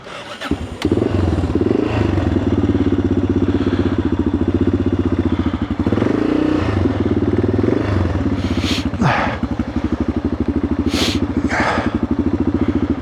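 An old Yamaha XT600 motorcycle with a low idle runs steadily up close in a loud, even thump, rising briefly in a couple of revs before settling back.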